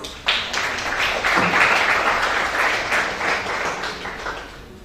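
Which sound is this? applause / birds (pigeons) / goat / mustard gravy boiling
applause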